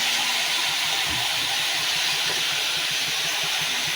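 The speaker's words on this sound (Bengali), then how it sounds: "মরিচ পেঁয়াজটা যখন ভাজা হয়ে গেছে, দেখো এর মধ্যে কলমি শাকটা ধুয়ে রেখেছিলাম, সেটাই দিয়ে দিলাম।" Loud, continuous hissing sizzle of water spinach (kalmi greens) frying in hot oil with chilli and onion, close and steady throughout, with no one speaking.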